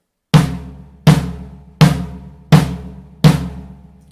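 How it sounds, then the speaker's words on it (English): Five evenly spaced drum hits, each muffled by a homemade Doppler ring, with a sharp attack and a short damped ring that fades quickly, loud and close with no voices. "this is the sound of the drum now with the homemade Doppler ring"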